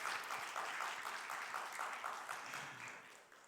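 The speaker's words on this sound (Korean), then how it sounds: "우리 그들을 향해서 우리 환영과 축복의 박수 하면 좋겠습니다" A church youth congregation claps in welcome for new young members at a Sunday worship service, a dense, steady wash of applause that fills the room throughout and fades slightly toward the end.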